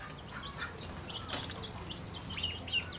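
Ducks at a zoo give a few faint, scattered quacks and calls over a soft outdoor background, with no talking.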